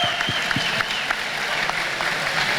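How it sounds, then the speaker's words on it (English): An audience at a leadership panel discussion applauds steadily, a dense even patter of many hands clapping at moderate distance, with no talk over it. "A big applause for Michelle."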